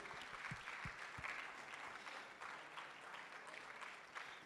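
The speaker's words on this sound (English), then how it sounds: "We continue clapping until he is on the podium." Audience at an Eastern Cape Department of Education provincial indaba keeps clapping continuously as a guest walks to the podium, a steady moderately distant patter with a few low thumps early on.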